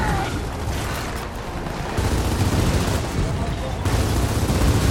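Gunfire in the video game Gears of War 4: a continuous, loud barrage of rapid automatic shots and booming blasts that stays dense and unbroken throughout.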